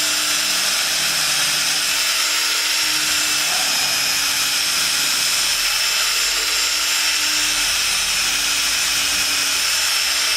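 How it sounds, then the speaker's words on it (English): An electric drill bores slowly and lightly into a wood blank, a continuous loud high whine with steady grinding that holds evenly throughout, close up and unbroken. "I'm just drilling very lightly, trying not to rush through it, checking that I'm vertical in both planes."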